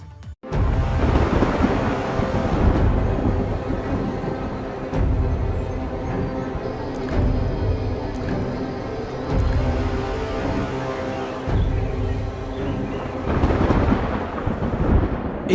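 Heavy rain pours steadily in a thunderstorm over Uttar Pradesh, with deep thunder rolling and rumbling loudly through the dense downpour from start to finish.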